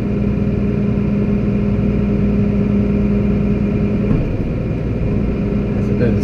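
A farm tractor engine idles in extreme cold, a steady low mechanical drone close by with a slight shift in tone near the end.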